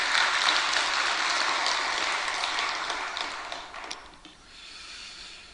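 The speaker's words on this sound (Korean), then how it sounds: "박수 한번." Church congregation claps in a warm round of applause that holds steady, then fades out toward the end.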